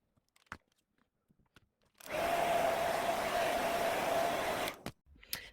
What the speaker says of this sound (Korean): 이제 드라이기로 완전히 말리시고 오셔서 하시면 되겠습니다.